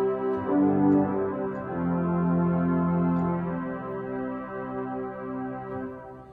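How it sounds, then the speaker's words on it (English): EM Skinner pipe organ playing its gamba and gamba celeste stops together, a bright, reedy string tone with a gentle beating shimmer, sustaining slow chords steadily with no voices. "And moving into a bolder, more moderate sound is the gamba and gamba celeste."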